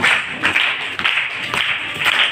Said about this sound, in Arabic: يلا صفقوا لها صفقوا لها